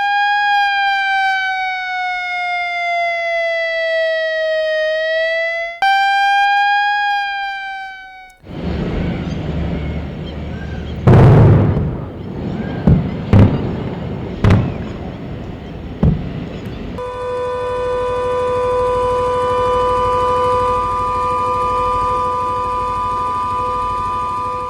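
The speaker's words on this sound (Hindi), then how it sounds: "जोरदार धमाके जो आप सुन रहे हैं, दरअसल ड्रोन अटैक जो पाकिस्तान की ओर से किया गया है" Wailing air-raid sirens rise and fall loudly during a drone attack from Pakistan, then give way to a run of heavy, booming blasts in quick succession, followed by a steady sustained tone.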